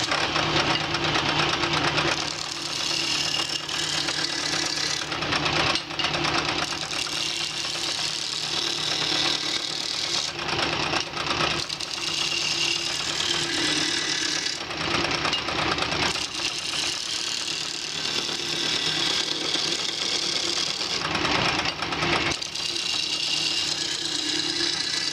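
Wood lathe hums and whirs steadily at higher speed as a tool cuts a log down toward a true cylinder for a carver's mallet, with recurring dips and surges in the cutting noise.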